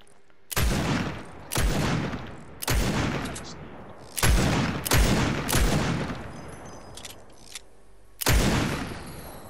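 Video game gunfire aimed at a llama, six or seven loud, sharp shots spaced about a second apart, each with a long ringing decay, fired close up with a brief pause before the last shot.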